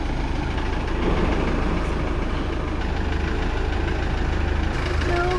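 A used campervan's engine turns over and settles into a loud, steady low idle rumble that runs throughout, close by, with faint voices in the background.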